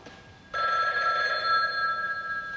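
A telephone bell starts ringing abruptly during a church wedding ceremony, a loud, sustained electric ring that continues steadily and alone after a brief quiet moment.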